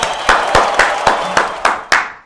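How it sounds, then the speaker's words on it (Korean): Seven sharp, loud hand claps in a steady, quick rhythm, close by, with no talking. "박수!"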